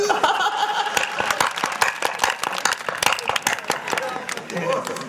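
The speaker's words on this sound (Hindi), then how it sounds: "बजाओ ताली।" A crowd at a Hindi comic poetry recital claps steadily in a lively burst, mixed with laughter and voices.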